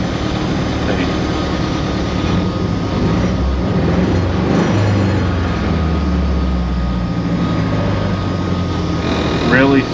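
A Ford Festiva fitted with an EcoBoost engine runs with a loud low rumble that swells and then slowly settles as the throttle comes down, with a voice speaking over it.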